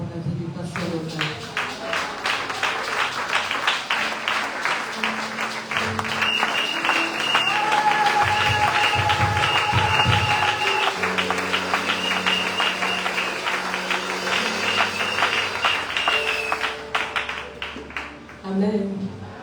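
A church congregation at a Sunday service bursts into sustained applause, rapid dense clapping building and holding for several seconds before tapering, with voices and a sung or spoken line running underneath.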